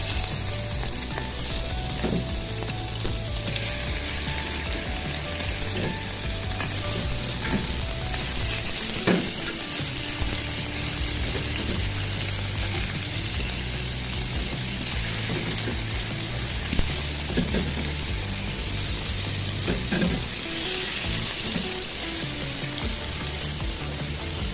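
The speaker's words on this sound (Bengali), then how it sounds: "মাছগুলো এখন আমি ভেজে নেব।" Cut fish seasoned with salt and turmeric, a sea fish of the koral kind, frying in a pan, a steady close sizzle that runs throughout, broken by occasional stirring clinks and scrapes.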